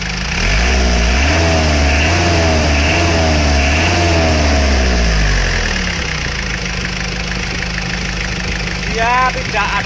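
A car engine idles up close after a cylinder liner rework, revving up and down in a few smooth swells before settling into a steady, loud running note.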